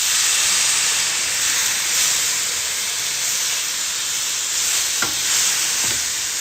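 Tomatoes fry in a pan with onions and turmeric for a tomato chutney, giving a loud, continuous hissing sizzle with a couple of faint stirring scrapes and no talking.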